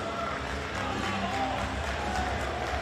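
Crowd at a GCW Bloodsport wrestling event reacting after a match, a steady dense roar of voices and scattered cheering filling the arena throughout.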